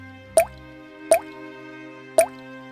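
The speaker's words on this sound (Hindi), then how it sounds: "छत से पानी टपकता था।" Water drips from a leaking roof onto something below, three separate plopping drops spaced about a second apart, close and clear over a quiet background.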